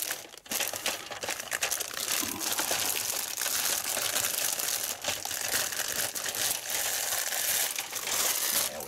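A plastic bag from a Revell Space Shuttle Discovery model kit is torn open and handled, giving loud, continuous crinkling and crushing close to the mic for several seconds.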